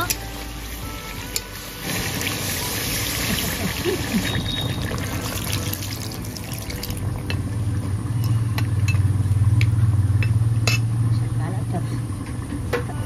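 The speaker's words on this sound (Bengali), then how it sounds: "এখানে মাংসটা সিদ্ধ হওয়ার জন্য পানি দিয়ে দেব।" Water pours steadily into a hot pan of buffalo meat, a rushing splash that swells into loud, bubbling sizzling, with clinks of cookware nearby.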